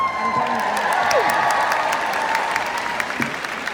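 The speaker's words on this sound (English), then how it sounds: "give yourself a round of applause" Audience gives a round of applause with some cheering, a dense, fairly loud burst of many hands clapping, with a few whoops and voices mixed in, fading slightly toward the end.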